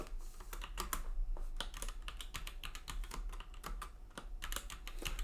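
Rapid keystrokes on a computer keyboard as a folder name is typed, a dense irregular run of close, crisp clicks with brief pauses, steady and alone over a low background hum.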